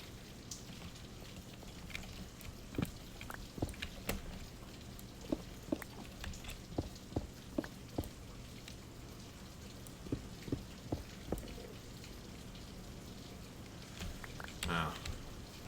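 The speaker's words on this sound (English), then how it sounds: "Yeah, it's raining." Soft, steady rain patters in modded Minecraft under scattered louder drips and knocks, with faint background noise and a quiet voice now and then.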